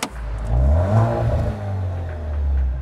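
An Alfa Romeo car engine revs hard, a deep throaty roar swelling and easing over a few seconds, loud and close with no talk over it.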